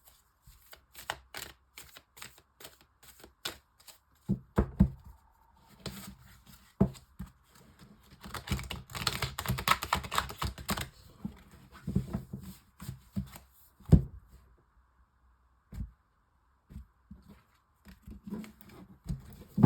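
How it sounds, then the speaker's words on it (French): A tarot card deck is shuffled by hand in rapid papery riffles and flutters, with short pauses and a denser burst midway, close and fairly quiet. "Alors, je prends le tarot de l'illumination."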